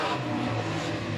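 A Jaguar racing car's engine drones steadily at a Standlake oval race meeting, a continuous mid-distance rumble mixed with other race cars and no clear revving peaks.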